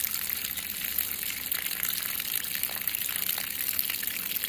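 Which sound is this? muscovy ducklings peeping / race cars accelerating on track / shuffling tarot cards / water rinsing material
water rinsing material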